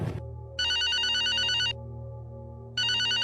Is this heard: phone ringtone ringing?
yes